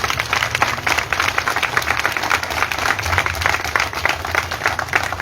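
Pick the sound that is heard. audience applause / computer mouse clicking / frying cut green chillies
audience applause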